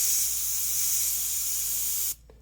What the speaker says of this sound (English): And I'm going to spray heavier.